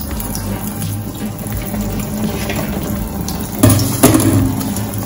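Tap water runs steadily into a kitchen sink while greens and pimento seeds are rinsed for a sorrel glaze, a continuous close splashing gush that swells briefly louder near the end.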